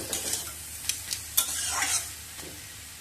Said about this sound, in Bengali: এবার সব কিছু দিয়ে ভালো করে কষিয়ে নেব, পেঁয়াজের কাঁচা গন্ধ যাওয়া অবধি।